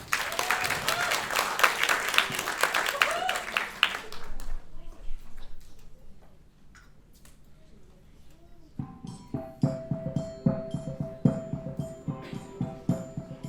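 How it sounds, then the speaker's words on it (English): Theatre audience applauding before the second act of a stage musical, a dense wash of clapping that dies away after a few seconds, followed by quieter sparse sounds and then scattered claps mixed with music-like tones. "a huge round of applause for Act 2 of the Reinvention"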